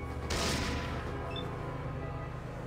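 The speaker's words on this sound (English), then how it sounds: "Oh, he's got a 10mm pistol." A 10mm pistol firing in the Fallout video game: a short burst of sharp gunfire near the start, then a fading echo and quiet ambience, with no talk.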